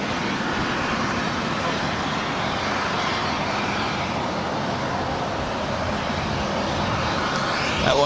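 An Air Canada Airbus A220-300 airliner passing at Los Angeles LAX airport, a loud continuous broadband jet roar that holds steady throughout, close and strong with no pauses.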